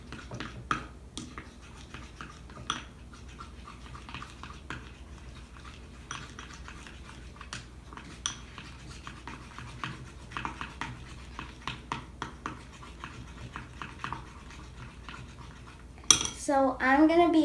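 Slime ingredients being mixed in a bowl, with steady scraping and scattered clinking taps that continue close up throughout, followed by a brief louder burst of tonal sound right at the end.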